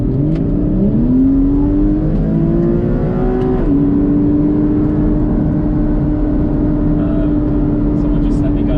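A Porsche Cayman 981 with the 3.4 engine and PDK gearbox, in Sport Plus mode, accelerating hard with a rising engine note, a sharp shift, then a steady loud drone under a voice.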